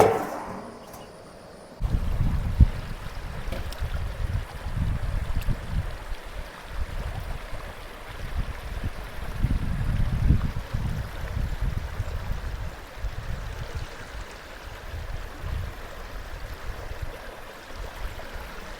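Rushing water at Athirappilly Falls, a continuous broad roar with surging swells, heard nearby after a brief quieter moment at the start, with no voices.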